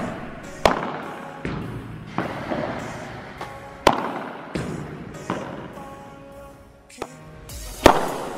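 A STIGA Ace 2 padel racket strikes the ball again and again, each hit a sharp, loud pop with a short ringing tail, spaced about a second apart.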